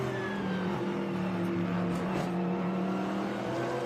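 An onboard Trans Am race car with Danny Lowry driving hard at a road course: a steady, loud engine drone holds at high revs with slight pitch shifts, heard from inside the cockpit.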